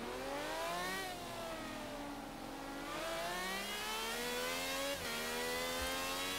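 Car engine in the video game Forza Horizon 3 revs repeatedly, pitch climbing through gears and dropping at shifts, loud and continuous with no talk over it.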